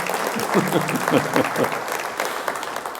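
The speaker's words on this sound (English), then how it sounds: "You can clap for him." Moderate applause for a district council member at a State of the City address, with distinct individual claps standing out early, then settling into a softer, even patter.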